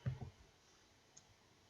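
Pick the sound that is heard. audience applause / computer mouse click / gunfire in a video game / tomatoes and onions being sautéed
computer mouse click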